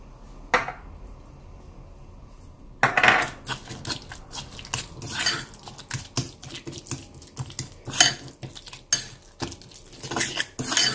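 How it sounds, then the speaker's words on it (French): Tuna pizza filling is stirred in a bowl, first a single clink, then a run of quick, close scraping and clattering strokes of a utensil against the bowl, repeated unevenly without talk. "Donc vous mélangez bien et la farce est prête."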